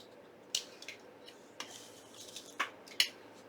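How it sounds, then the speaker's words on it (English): Scissors cutting paper for junk journal collage tags, a handful of quiet, crisp snips spaced irregularly over a faint background hum in a close, calm setting. "cut it right here, and cut it right here, and I'm going to cut this little flower out"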